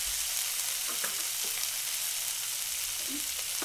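Chicken with tomato and capsicum sautés in a pan with a constant close sizzle, broken by light scattered clicks of a spoon stirring.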